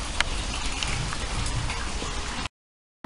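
Small decorative waterfalls splash in a steady broadband wash at a flower supermarket in Poznań, continuous and fairly close, then cut off abruptly near the end.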